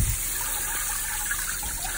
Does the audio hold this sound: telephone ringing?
no